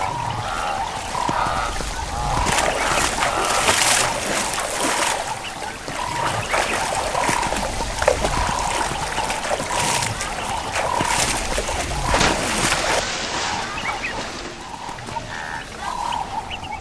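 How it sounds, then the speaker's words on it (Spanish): A herd of wildebeest plunges into a river, producing continuous heavy splashing and churning water, loud and sustained throughout, with a steady rushing wash under the splashes. "los demás lo siguen, en fila, grupo tras grupo, lanzándose a las aguas del río"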